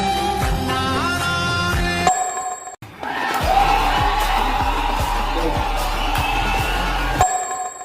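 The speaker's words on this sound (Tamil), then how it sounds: "ஒரே கைத்தட்டல் ஆரவாரம் தான்." On a Bigg Boss Tamil reality TV broadcast, a crowd claps and cheers over a thumping musical beat for several seconds, framed by bright chiming tones before and after.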